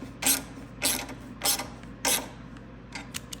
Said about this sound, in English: complete tightening the bolt that goes through the kickstand mount with your 11/16.